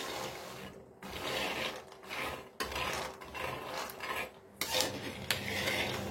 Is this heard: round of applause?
no